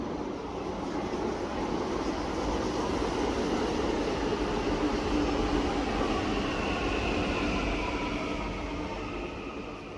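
A Delhi metro train runs with a steady, loud rumble and rushing roar that holds evenly throughout and eases slightly near the end, with no voices.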